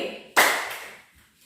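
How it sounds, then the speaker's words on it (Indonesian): A single sharp clap in a classroom concentration clapping game, a loud crisp hit that decays quickly into a quiet room. "Kita mulai ya. Tepuk pagi,"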